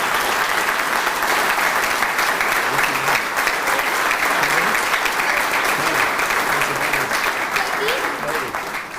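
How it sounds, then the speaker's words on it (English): A crowd applauds steadily at a news conference at the Coachella Valley Arena, dense and sustained clapping at an even level that eases off slightly at the end. "Give them a round of applause."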